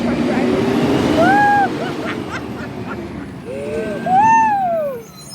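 Front loader garbage truck at the curb, its engine rumbling loudly as the air brakes let out high hissing, squealing releases, one near the start and a longer one toward the end.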